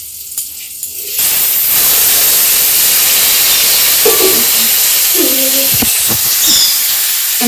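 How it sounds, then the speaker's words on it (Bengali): Onion, carrot, beans and beet fry in a pan for poha, giving a loud, steady hissing sizzle that starts suddenly after a quiet moment and continues, with a few faint clinks and a brief voice. "এখানে সব রকম সবজি দিয়ে মানে ভাজা করছি, পেঁয়াজ, গাজর, তারপর আর কি বিনস, বিট"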